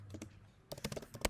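Keyboard typing at a computer: a few soft keystrokes, then a quick, louder burst of clicking keys close by, with no voices.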